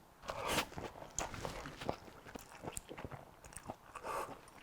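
Someone eats a simple home-cooked Korean New Year holiday dish, with faint, close chewing and soft crunching bites continuing steadily for several seconds, no speech.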